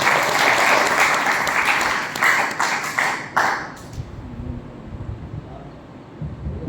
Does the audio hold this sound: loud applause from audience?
yes